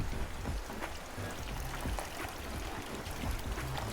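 Steady tropical rain pours and patters across surfaces on a small remote island in the Philippines, a dense continuous hiss with scattered drop impacts and no talk.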